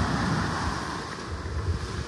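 Ocean surf at Vanderbilt Beach in North Naples, Florida rolls in as a steady, fairly loud wash of breaking waves mixed with wind buffeting the microphone, with no voices.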